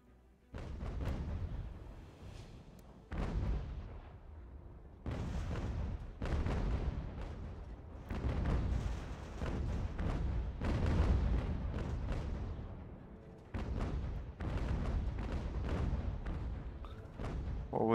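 Cannon fire in an American Revolution strategy battle, heavy booming volleys recurring in bursts, with loud rumbling blasts and dense battlefield noise throughout.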